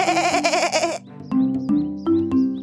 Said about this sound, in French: une petite chèvre affamée apparut devant la jeune fille.